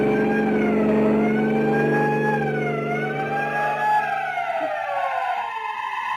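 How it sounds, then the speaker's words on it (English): A loud, close siren wails up and down over a rumbling vehicle engine, fading slightly toward the end. "Sound your siren."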